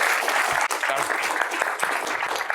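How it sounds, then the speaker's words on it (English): Audience applause for panelists closing a conference session on corporate greenhouse gas reporting, a steady dense clapping wash filling the moment, with brief voices faintly under it. "please round of applause to the great panelists"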